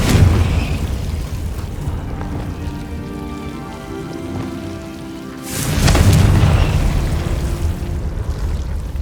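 Confringo fire spell blast in the Hogwarts Legacy video game: a loud burst that drops away briefly, then a second rumbling explosive surge rolls in, with a steady noisy wash underneath and no talking.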